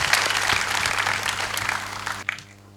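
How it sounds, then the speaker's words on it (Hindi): Audience at a public event applauds to welcome the CDO onto the stage, loud dense clapping that holds steady and then drops away abruptly near the end, leaving a low electrical hum. "ज़ोरदार तालियों के साथ उनका स्वागत हो"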